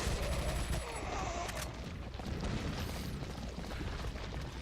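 Rapid gunfire and booming blasts from the video game Resident Evil 4, dense overlapping shots in a loud continuous barrage with heavy low rumble and no pause.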